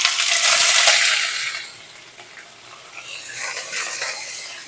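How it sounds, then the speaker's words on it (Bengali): Cauliflower florets frying in hot white oil in a wok, a broad steady sizzle that swells loud at the start, eases in the middle and rises again, with no talking. "কড়াতে সাদা তেল দিয়ে দেব ফুলকপিগুলো ভাজার জন্য"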